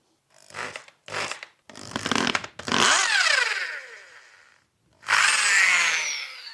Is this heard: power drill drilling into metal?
yes